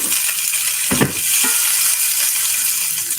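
Onions frying over medium heat in a pan, giving a steady broadband sizzle with a couple of brief clatters of utensil against metal, close and fairly loud, with no talking.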